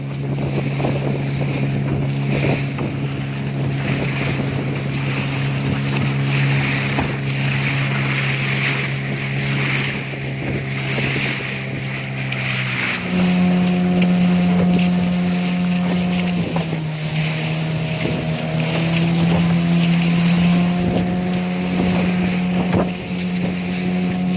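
A fishing boat's motor drones steadily at sea off Nusakambangan, a continuous loud hum that shifts to a slightly higher pitch partway through, with wind buffeting the microphone throughout and no talking.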